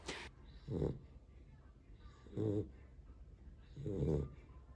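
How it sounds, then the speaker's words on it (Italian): A sleeping Chow Chow snores softly, three slow, rasping snores at an even pace with quiet pauses between, fairly close in a calm room. "Volevo farvelo vedere ma dorme, oh ve lo faccio vedere che è russa"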